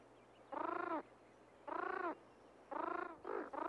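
Band-tailed pigeons give low, owl-like hooting coos, four or five separate calls in an uneven rhythm, faint and somewhat distant against a quiet background.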